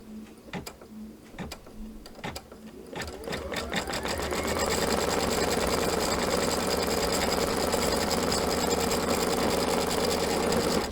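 A sewing machine stitches a pinwheel patriotic quilt block for a pillow, starting with a few separate clicks and short runs before settling into a steady, close mechanical whir that holds to the end.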